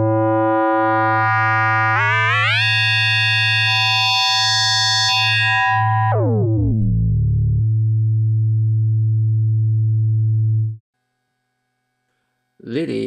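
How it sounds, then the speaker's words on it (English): FM synthesis tones from the Lily macro oscillator on a KORG NTS-1 mkII: loud, bright, harmonic-rich tones step and sweep upward, then fall to a steady low drone that cuts to silence, with a brief burst at the very end. "Lily FM offers a range of digital synthesis algorithms, including FM synthesis for crisp dynamic tones."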